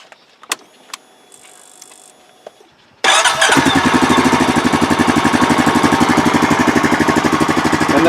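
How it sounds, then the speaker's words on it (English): A 2012 Honda Foreman TRX500 ATV engine cranks over after a few faint clicks, catches and settles into a loud, steady, close idle with a rapid rhythmic putter, running alone without talk. "I like to start and run a vehicle a little bit so that oil filter can get saturated."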